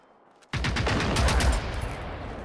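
Sudden burst of automatic gunfire in Generation Zero: after a brief quiet moment, a loud, rapid volley of shots starts and keeps rattling close up until the end.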